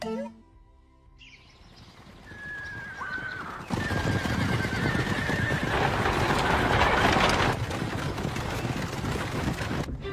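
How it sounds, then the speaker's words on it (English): Horses pulling fast carriages in an anime scene: a loud, drawn-out neigh rings out near the start, then a dense, steady clatter of hooves and rolling wheels takes over and stays loud, with faint chirping birds in the background. "These horse carriages are ridiculously fast!"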